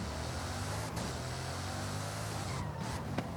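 A Bugatti in Forza Horizon 5 drones along at a steady engine pitch, a continuous in-game motor sound with a brief tire squeal and a small knock near the end.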